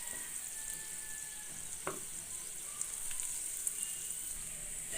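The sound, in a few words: onions frying in mustard oil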